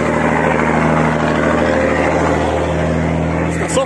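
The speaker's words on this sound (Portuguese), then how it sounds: "aqui começa mais um barulho de um caminhão passando" A truck's engine drones loudly and steadily as it labors uphill, a low rumble close by for a few seconds.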